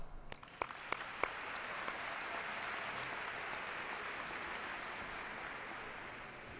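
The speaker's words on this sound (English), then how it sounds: "Please join me in applause for them." A graduation audience at Phoebus High School gives sustained, even applause from a distance, with a few sharper claps standing out at the start before the clapping settles into a steady wash.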